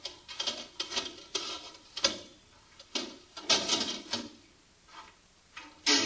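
An ASKO dishwasher basket rolls and slides onto its rails in a series of rattling, clicking mechanical bursts, with metallic ticks and a sharper clack at the end, close and moderately loud.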